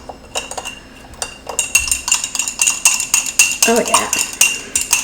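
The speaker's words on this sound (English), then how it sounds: "I got some honey on the bottom here, so let me get to that." A small metal spoon scrapes honey from the bottom of a dish in rapid, close clinks and scrapes, with a short spoken remark partway through.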